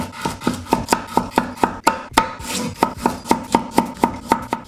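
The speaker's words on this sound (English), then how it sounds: "For vegetables, we're gonna start by roughly chopping them." Quick, regular knife chops on a cutting board, around four per second, with one brief pause midway; crisp and close.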